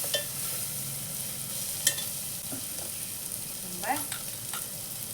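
Vegetables sizzling in a pan while being stirred and sautéed for sambar, a faint steady frying hiss broken by a few scraping clinks of a spoon, with a brief spoken word over it.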